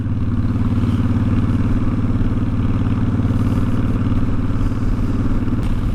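A motorcycle engine rumbles continuously, a loud, close, steady low throb with no talking.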